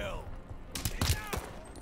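Light machine gun fire in Call of Duty Vanguard: a quiet start gives way to several sharp, loud bursts of shots in close succession, with faint game sounds between them.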